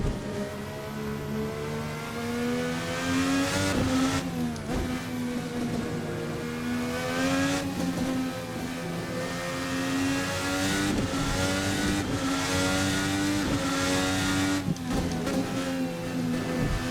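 A Formula NA race car in a racing simulator revs hard and steadily near its 12,000 rpm redline, a loud, continuous high-pitched engine wail with brief dips at gear shifts and no talk over it.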